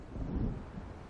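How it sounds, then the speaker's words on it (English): A low rolling rumble of thunder from an approaching storm in a game, heavy and sustained across the moment with a faint wash of rain or wind, no talk. "It seems there's a storm coming."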